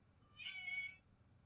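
A single soft, short cat meow, faint and close, against a quiet background.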